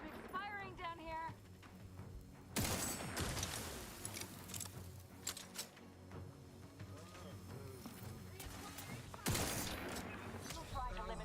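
Gunfire in a video game: loud bursts erupting at intervals among scattered sharp cracks and mechanical noise, with a voice speaking early on.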